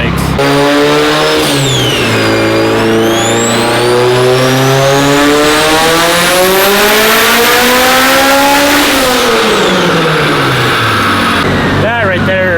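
Mitsubishi Evo 8 engine screaming through a loud sustained rev on a dyno, pitch sweeping up and down through the gears with tire and drivetrain roar, voices talking underneath.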